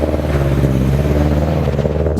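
Engine of a Subaru BRZ on coilovers, traction control off, droning loudly and steadily at a held rev while drifting, with a faint clatter over the steady engine note and no talk.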